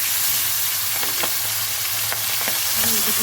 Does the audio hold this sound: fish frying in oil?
yes